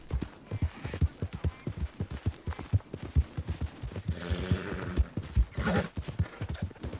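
Horse hooves clip-clop in a steady, rapid rhythm in the Red Dead video game, loud and close for several seconds with a brief louder swell midway and no talk.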